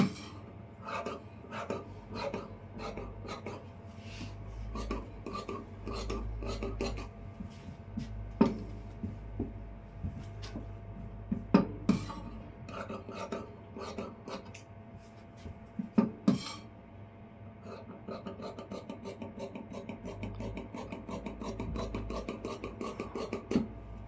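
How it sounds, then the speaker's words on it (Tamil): Scissors cut blouse yoke fabric with a steady series of close, crisp snipping and rasping strokes, a few sharper clicks standing out along the way, and no talking. "இப்போ நான் யோக் பட்டியும் கட்டிங் பண்ணிடுறேன்."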